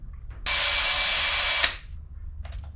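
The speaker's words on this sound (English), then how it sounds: "so I'm gonna have to use a drill." A power drill spinning a brass wire brush cleaning a spark plug from a 1976 Chevy K10 whirs loudly and steadily for about a second with a scrubbing, buzzing edge, then stops, followed by faint clicks and handling.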